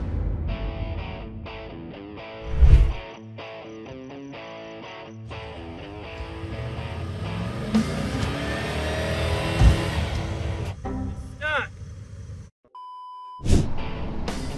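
A full-size two-wheel-drive Dodge truck stuck on a rough ATV trail revs hard in repeated bursts, the engine surging and dropping with sharp loud peaks and brief pauses between attempts.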